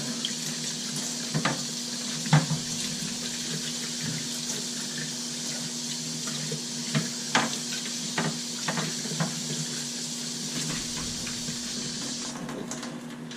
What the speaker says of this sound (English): And rinse out this side of the tray